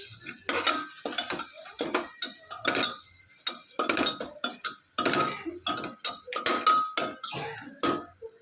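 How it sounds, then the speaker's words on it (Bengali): Spices, salt and boiled peas are stirred in a pan for a potato-pea curry, with repeated spatula scrapes and clinks against the metal and a soft sizzle underneath, close and steady with no talking. "এবার সব মশলাগুলোকে একসঙ্গে ভালো করে কষিয়ে নেব।"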